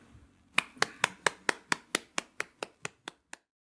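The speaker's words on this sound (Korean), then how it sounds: "우리 하나님께 영광의 박수 돌리겠습니다" A church congregation at a Sunday worship service claps in unison, about eleven crisp, evenly spaced claps that gradually fade and stop, with nothing else heard.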